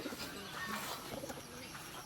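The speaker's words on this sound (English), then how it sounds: "Hey, these are pigeons, huh?" Pigeons coo softly on a rural Filipino farm, faint and somewhat distant, low murmuring calls repeating over a quiet outdoor background.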